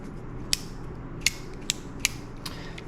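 Ratchet clicks while tightening a carburetor on a power washer: four sharp, isolated clicks spaced irregularly over a low steady background hum, close and fairly quiet.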